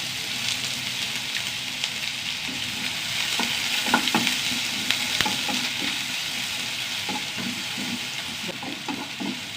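Onion and curry leaves, along with a small piece of cinnamon and cardamom, sauté in a pan with a steady hiss of sizzling and scattered spatula scrapes and taps throughout.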